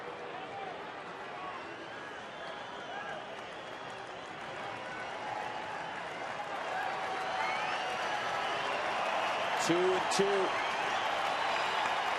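A baseball stadium crowd at a Rockies game applauds and murmurs in a broad, distant wash that swells gradually, with a short exchange of commentator speech over it.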